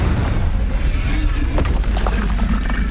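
A Confringo spell explosion in the Hogwarts Legacy video game, a dense, continuous low rumbling roar with a few sharp cracks, booming and loud throughout.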